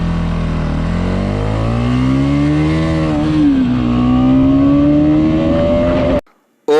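A 2021 Bajaj Pulsar NS200 motorcycle engine revs hard in first gear, a loud continuous climbing whine that rises in pitch for about six seconds before cutting off abruptly, with no talking.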